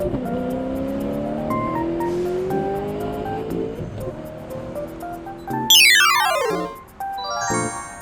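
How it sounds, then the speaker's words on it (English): A car drives past with a steady engine note, then revs and accelerates sharply near the end, rising loud and close with no talking. "car."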